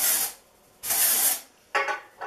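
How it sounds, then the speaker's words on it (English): Dry shampoo sprayed from an aerosol can onto freshly brushed hair while styling a bun: three close, loud hissing bursts, the first two long and the last one shorter, with no voices. "So I take the dry shampoo"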